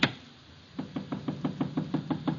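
Knocking on a door in an old radio drama: one faint knock, then after a pause a steady run of about ten evenly spaced raps, clear over a quiet hiss.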